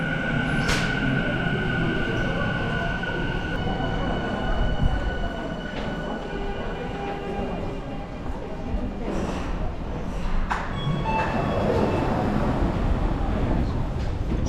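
A Tokyo subway train runs with a steady low rumble, wheel rattle and occasional high squeals, heard from inside a carriage while voices speak now and then.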